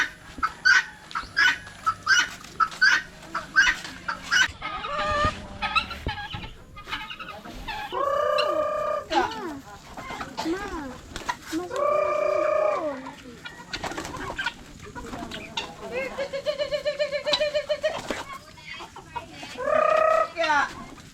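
Farmyard fowl, chickens and a large turkey, clucking and calling repeatedly in loud, close bursts with short pauses between them, with no talk over the calls.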